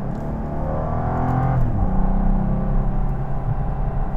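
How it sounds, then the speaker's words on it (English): A 2014 BMW 435i engine revs and drops through manual downshifts, the tone swelling, dipping and rising again from inside the cabin, steady and fairly loud with no talking. "So I'm going to leave it in manual and downshift a couple times."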